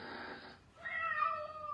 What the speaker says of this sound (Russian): Мама кошка.